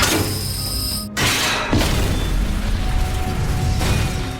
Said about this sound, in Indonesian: Mizuno yang marah memukulkan panci yang mengakibatkan percikan api kemudian memicu ledakan gas